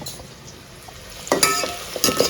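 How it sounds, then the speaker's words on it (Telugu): Onions frying in a pan at home while cooking paneer pulao, a soft sizzle that turns louder with stirring clatter and scraping bursts near the end. "ఆనియన్స్ అయితే బాగా వేగుతున్నాయి"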